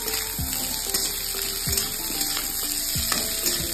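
Sliced onions and slit green chillies fry in hot oil for a Bengali pumpkin curry, hissing steadily while a spoon stirs and scrapes the pan in regular strokes.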